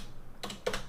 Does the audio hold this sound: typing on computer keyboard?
yes